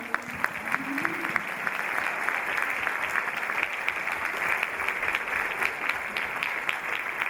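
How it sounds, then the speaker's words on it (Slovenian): An audience applauds throughout at a dance group's performance, a dense, even patter of many hands clapping at moderate distance, sustained without a break. "En aplavz."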